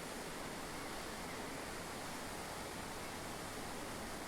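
Korbu waterfall in the Altai roars as a constant, broad rushing wash of water, steady and unbroken throughout, with no voices.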